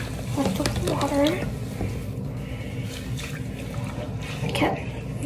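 Water sloshes and trickles as a doll's hair is dunked and soaked, with splashy bursts near the start and middle under a person talking.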